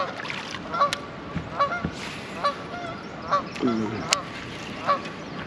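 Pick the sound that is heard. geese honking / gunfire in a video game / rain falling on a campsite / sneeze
geese honking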